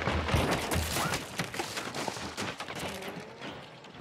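Rapid gunfire from a chainpistol with infinite ammo in a video game, a fast, uneven series of close, loud shots fading toward the end, with no talk.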